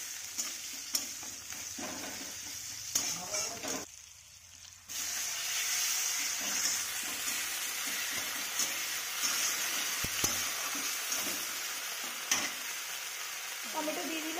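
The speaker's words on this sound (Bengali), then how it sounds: "ফ্রাই করে নেবো যতক্ষণ এটা ব্রাউন না হয়ে যাচ্ছে" Food fries steadily in a pan until browning in a home kitchen, a continuous close sizzle with occasional stirring scrapes, briefly dipping quiet partway through before the hiss resumes at full strength.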